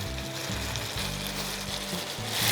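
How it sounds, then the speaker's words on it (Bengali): Chicken pieces for lemon chicken sizzle steadily in a hot pan, a loud, close, continuous frying hiss that swells slightly toward the end, with no talk over it. "তাহলে একটু হালকা করে তুমি ফ্রাই করছো?"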